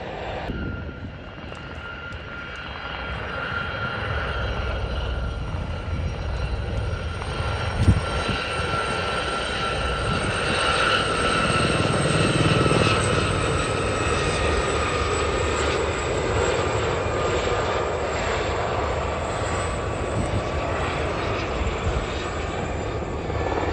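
Royal Navy helicopters flying past at an air show in Abingdon, a steady loud rotor and engine roar holding for the whole stretch, swelling slightly midway as they pass overhead.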